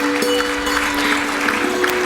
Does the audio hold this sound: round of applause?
yes